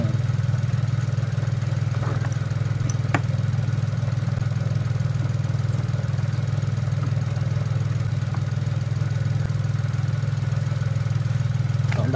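A Nissan Almera engine with a misfire from a faulty ignition coil idles steadily with a low, even rumble throughout, broken only by a couple of faint clicks.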